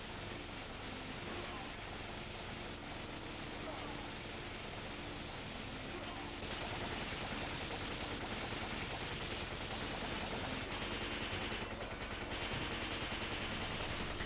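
AK assault rifle fire in Resident Evil 5 rattles in fairly faint, continuous bursts of rapid shots over game noise, with someone talking over the gunfire.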